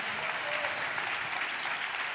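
A church congregation claps steadily together in praise during a sermon, a full, even wash of applause with no pauses.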